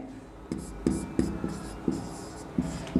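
Writing on a board during a Class 8 maths lesson: a series of about eight short, scratchy strokes in an uneven rhythm, close and fairly clear over a quiet room.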